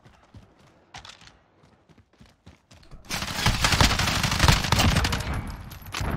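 Call of Duty: Modern Warfare gameplay brings scattered clicks and clacks of a magazine reload, then a sustained loud burst of rapid gunfire that fills the rest of the moment.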